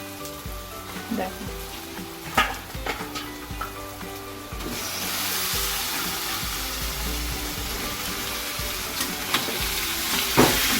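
Pieces of meat go into spice paste that has been fried until the oil separates, bursting into a loud, continuous sizzle with stirring scrapes and knocks, after a stretch of quieter clatter.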